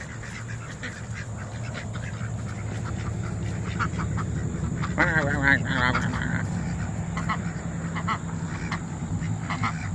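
Ducks quacking near a mimosa tree by a mill in Lindale, Georgia, giving a brief cluster of nasal calls midway over steady outdoor rumble, with people talking nearby.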